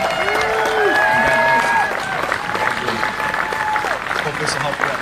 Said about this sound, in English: Give everybody a round of applause up here.